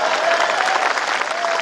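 Loud, steady audience clapping at a Hindi comedy poetry gathering (kavi sammelan) in Rajnandgaon, a dense wash of many hands with no break, while a faint tonal voice runs underneath.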